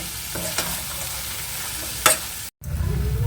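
Vegetable chop mixture with fried nuts and chopped coriander being stirred in a pan on the stove, a steady scraping stir under a soft sizzle, with a few sharper knocks of the spoon against the pan.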